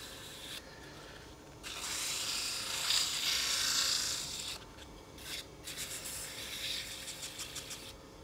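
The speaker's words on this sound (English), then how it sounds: "Give that a little sand. Won't take much because I've got quite a mean cut, so I've gone straight to the 400 grit." Sanding a turned wooden candle holder on the lathe with 400 grit sandpaper, a soft, hissing rasp in quiet bursts of a few seconds each, close by and alone.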